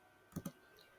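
Two quick mouse clicks in close succession, soft and near, over a faint steady hum.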